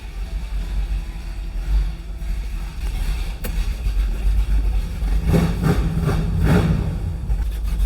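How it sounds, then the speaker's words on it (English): A Chevelle idles steadily with its exhaust open, giving a continuous deep, rough rumble at close range. The engine note swells slightly louder and busier toward the end, and nobody speaks over it. "That's what it sounds like with the exhaust open."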